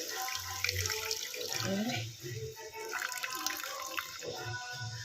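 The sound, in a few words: pouring off the water in cooking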